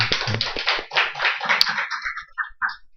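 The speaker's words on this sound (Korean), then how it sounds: "우리 박수로 다시 한번 축하합시다" Church congregation clapping together during a Korean Thanksgiving Sunday service, a short burst of applause that thins out into a few scattered claps near the end.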